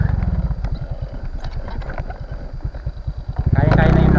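A motorcycle rides along a bumpy, muddy, potholed rural road, its engine chugging in a rough, uneven pulse with clattering jolts, loud and close, then revving up sharply at the end.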